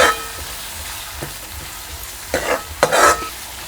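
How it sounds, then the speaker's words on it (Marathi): Tomatoes with garlic sautéing in a pan give a soft, steady sizzle, broken by a few louder scrapes and clatters of a spatula against the pan near the end. "आता आपण यामध्ये घालूया टमॅटो सुद्धा आपल्याला ना पूर्ण मऊ मऊसपर्यंत आपल्याला परतून घ्यायचं"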